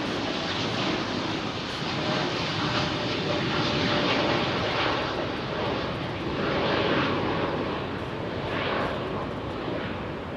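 An airliner takes off from London Heathrow runway 27R and climbs out, a broad steady jet roar holding loud and constant throughout with no talk.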